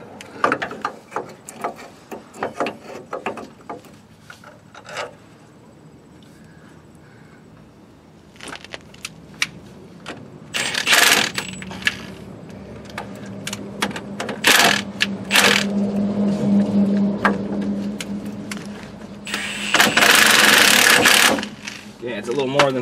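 Ratchet tightening new lower ball joint bolts on the front suspension of a 1995-2004 Toyota Tacoma, repeated clicking bursts that grow louder and denser toward the end, with someone talking throughout.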